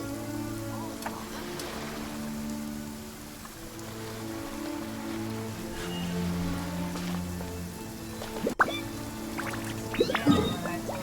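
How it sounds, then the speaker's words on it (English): Rain falling in the Genshin Impact video game, a steady patter of drops on surfaces under a sustained game music bed, with a couple of sharper splashy hits near the end. "Find shelter from the rain."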